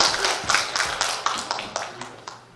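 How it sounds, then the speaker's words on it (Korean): A church congregation applauding in a worship service, a steady run of claps at a brisk, even pace from a few people nearby, moderately loud with a slight room echo. "우리 하림이 위해서 박수 한번 할까요?"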